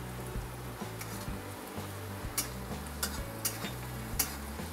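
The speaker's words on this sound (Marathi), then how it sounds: "चांगलं हलवायचं" Quiet stirring in a pan of fried onion with turmeric, garlic and ginger for egg keema, soft scraping and light sizzling with a few sharp utensil taps over a steady background hum.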